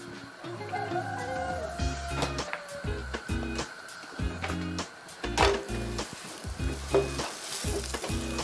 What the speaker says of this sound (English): When you are browning the tortillas, make sure you're pressing it to the pan so that it cooks evenly.